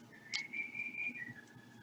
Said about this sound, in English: You might hear my bird singing in the background.